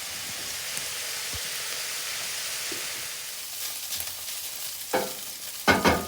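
Picadillo sizzles steadily in a frying pan, a continuous close hiss that holds even throughout, with a few sharp utensil clinks and scrapes breaking in near the end.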